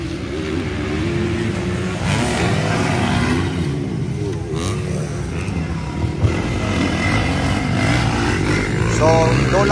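Motocross motorcycles race in an intermediate heat at a dirt track, engines revving and whining continuously nearby as bikes accelerate, with a commentator talking over the noise.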